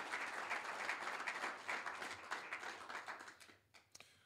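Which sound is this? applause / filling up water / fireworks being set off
applause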